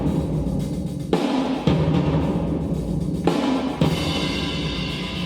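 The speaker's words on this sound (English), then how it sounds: "So all together, our percussion sounds like this." A full orchestral-style percussion part for a superhero theme arrangement, dense rumbling rolls punctuated by a few big booming hits and crashing cymbal swells, loud and continuous with no voices.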